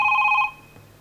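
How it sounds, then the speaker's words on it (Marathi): A telephone rings once with a short, bright electronic trill, close and clear, followed by quiet. "फोन फोन आलेला आहे."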